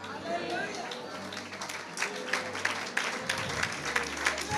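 Audience applause at a church fasting prayer meeting, steady clapping from a crowd running throughout, with a preacher's voice talking over it.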